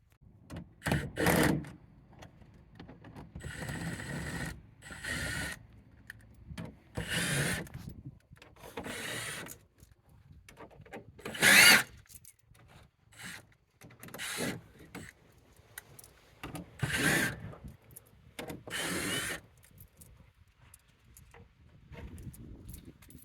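Bolts and plastic clips being removed from an interior panel of a 2017-or-later Chrysler Pacifica: intermittent ratcheting, scraping and rubbing clicks in short bursts, close by, with pauses between and no talking.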